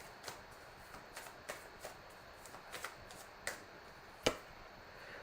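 Tarot cards are shuffled by hand in a quiet room, giving a series of soft, irregular riffles and taps, with one sharper snap near the end and no talking.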